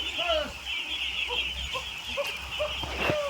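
A large flock of ducks clucks and quacks in short, scattered calls over a steady background hum, with lots of overlapping activity close by.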